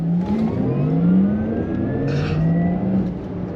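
A Porsche Taycan 4S electric car accelerates hard, its motor giving a smooth, steadily rising whine over a low rolling road hum, with no engine roar and no talking.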